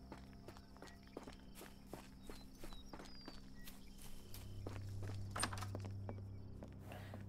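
Steady hoofbeats of a walking horse in Sherlock Holmes: The Awakened clop along in an even rhythm, fairly quiet, with a low droning hum rising in the background partway through.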